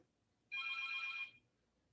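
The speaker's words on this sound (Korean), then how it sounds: "전화 오니 잠깐 미안해." Telephone ringing in a quiet room, a single electronic ring tone with a steady pitch that lasts under a second and then stops, heard alone.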